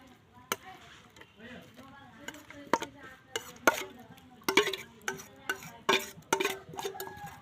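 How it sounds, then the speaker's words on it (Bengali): Salt and chili being ground together by hand, with sharp, irregular knocks and scraping taps, some close and loud, others lighter, scattered unevenly with no speech over them. "লবণ তারপরে মরিচ, এটা আমি গুঁড়া করছি"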